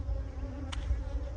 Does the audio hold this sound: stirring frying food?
no